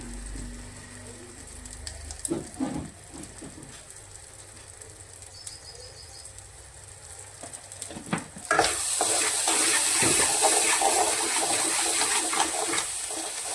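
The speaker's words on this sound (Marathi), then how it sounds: "हलकं पाणी सोडून देऊ" Quiet stirring and faint sizzling of soybean chunks give way to a louder rush of water poured into a hot pan, hissing steadily to the end.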